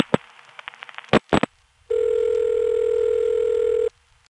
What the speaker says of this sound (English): the ESC cuts through to the TSD, which makes some more noises and connects us to the operator's ring